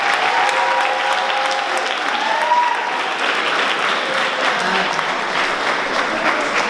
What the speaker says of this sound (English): You got to give a round of applause to Mr. Banks.